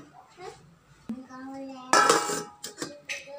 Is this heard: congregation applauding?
no